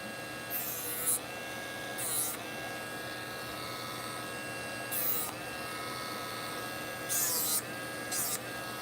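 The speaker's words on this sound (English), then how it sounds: "I'm going to sand this before I go any further" A paper model piece for a Star Wars Hammerhead Corvette is sanded in several short, raspy bursts of rubbing, each lasting under a second, over a steady background hum.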